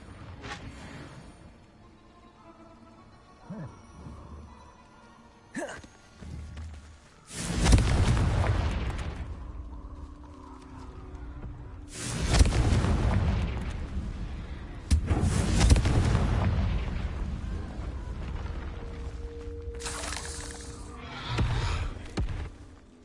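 Confringo fire spells explode in the video game Hogwarts Legacy, with about four heavy booming blasts, each trailing off in a rumbling roar, set against a quieter game background.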